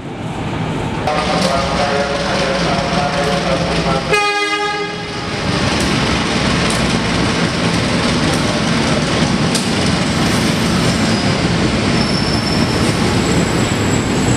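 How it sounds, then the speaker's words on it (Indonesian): The Matarmaja train from Pasar Senen to Malang runs straight through Jatinegara station on track 7, a loud, close rumble with a brief horn blast in the middle and steady wheel clatter throughout. "Yang melintas langsung di jalur 7 itu kereta Matarmaja dari Pasar Senen ke Malang"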